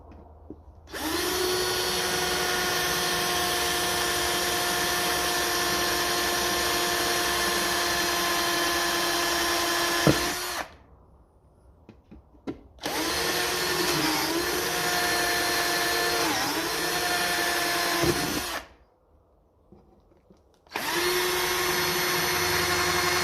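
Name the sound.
drilling with a bigger drill bit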